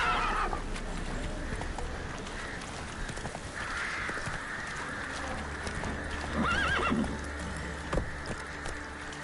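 Roach, the horse in The Witcher 3 video game, galloping with rapid hoofbeats and a loud neigh partway through, amid game ambience and a faint background voice.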